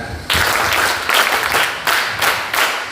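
Group clapping from a seminar audience comes in a steady beat of loud, crowded bursts of many hands together, one pattern repeating over a few seconds.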